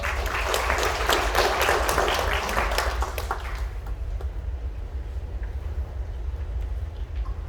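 An audience at a policy forum held at the National Assembly applauds to welcome a university professor to the podium: dense, steady clapping for about three and a half seconds that then fades quickly into a low room hum.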